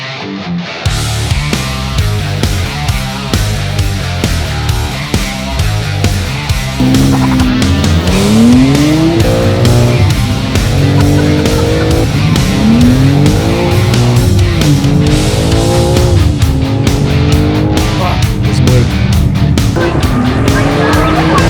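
A fast car ride that feels like Formula 1 racing, with a loud sustained engine roar climbing and falling through gear changes and tire squeals, close and continuous for the whole stretch.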